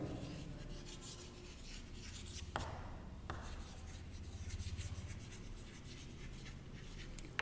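Pen or pencil scratches across paper as math set notation is written out by hand, a continuous close, faint scratching with strokes and brief taps and a few short pauses.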